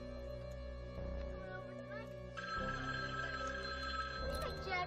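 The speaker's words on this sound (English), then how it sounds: "Phone's ringing." A telephone bell rings on and off in a fan-made Halloween horror video game set in a living room, mixed with game music and tones while a voice talks over it.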